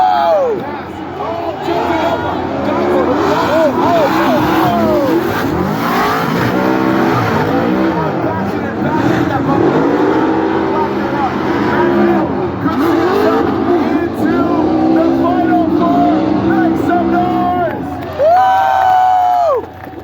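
Drift cars sliding at Formula Drift Irwindale, engines wailing with rising and falling pitch and tires squealing throughout, a loud crowd roaring and cheering around them while an excited announcer talks over the action.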